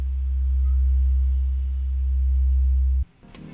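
A steady, pure low synthesizer sine tone hums loudly and evenly for about three seconds, then cuts off abruptly, leaving faint noise.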